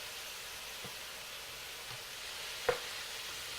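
An unstuffed cabbage skillet mixture cooks in a pan with a faint, steady sizzle, broken by a few soft clicks and one sharper knock near the end.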